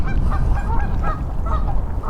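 Geese honk repeatedly near a small boat out on windy water, their calls close and loud over a steady rumble of wind noise, with no voices.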